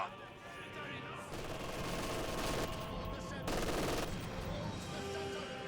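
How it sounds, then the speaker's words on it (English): MG42 machine gun in Company of Heroes 2 firing long sustained bursts, a rapid ripping rattle that swells in two louder stretches over steady battlefield noise. "MG42 firing away."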